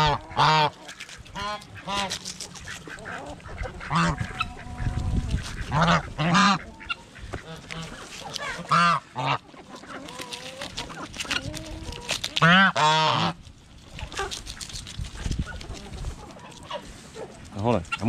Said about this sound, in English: I'm gonna get some of the ducks